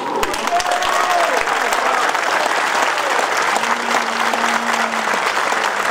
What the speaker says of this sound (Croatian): za našu policiju jedan aplauz